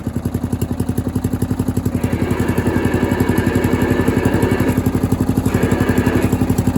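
A Murray off-road riding mower idles low and steady, its small engine chugging in a fast, even thump, with the clattering rising slightly midway, close and loud without talk.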